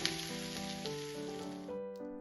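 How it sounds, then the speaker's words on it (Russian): Quiet, steady sizzling of vegetables frying in a pan, with soft music playing underneath throughout. "Обжариваем до мягкости."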